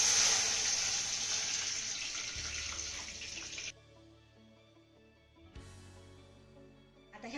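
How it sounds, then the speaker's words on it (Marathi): Water from two glasses pours steadily into a kadhai holding oil and cumin, a strong rushing splash that stops abruptly, followed by a short second splash near the end. "यामध्ये ना आपण 2 ग्लास पाणी घालूया"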